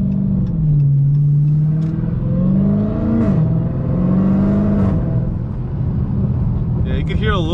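Supercharger whine from a Dodge Challenger SRT Hellcat Redeye with a smaller pulley, a loud rising-and-falling engine drone with the whine riding over it through repeated pulls.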